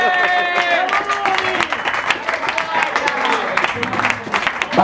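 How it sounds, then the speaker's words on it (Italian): An audience at a festive dinner claps, the applause dense and lively from the start, while a crowd voice carries over it early on before the clapping continues to the end. "un applauso a Rumi che ci ha tagliato i baffi"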